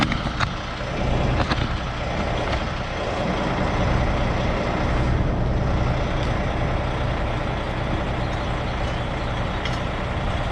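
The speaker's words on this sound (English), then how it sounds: "Let's go supply the trailer with air." A semi truck's air system charges the trailer brakes on an early morning in North Dakota, a steady loud hiss and rush of air over the idling engine, with faint high beeps now and then.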